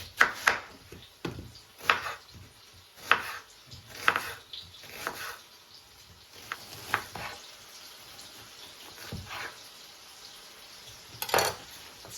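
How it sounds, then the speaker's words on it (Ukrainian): A knife slices onions into half rings, making sharp, close chops at a roughly regular pace of about one per second, then fewer, more scattered cuts with a final quick burst near the end. "Нарізати цибульку я буду напівкільцями."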